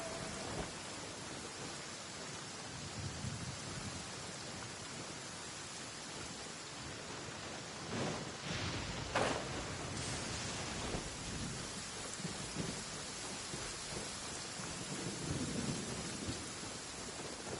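Steady rain falls with low rumbles of thunder rolling through it, and a louder crack comes near the middle. The sound is fairly quiet overall, and no one speaks.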